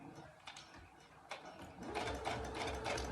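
A sewing machine stitches quilt rows together with a quarter-inch seam, whirring quietly and steadily with faint mechanical ticking throughout.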